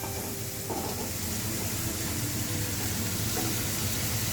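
Prawns sizzling and frying in a pan over a high flame for Indian-style egg fried rice, a steady, close, continuous hiss with occasional stirring scrapes.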